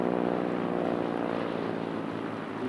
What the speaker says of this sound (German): die A50 ist nämlich ein ganz modernes Ultralight mit einem hochsparsamen Rotaxmotor.